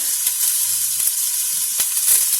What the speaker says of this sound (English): Saute those a little bit.